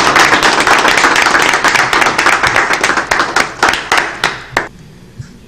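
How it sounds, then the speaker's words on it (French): Wedding guests clap in a dense burst of applause that thins into a few scattered, separate claps before falling quiet near the end. "Mais qu'est-ce que vous attendez pour applaudir?"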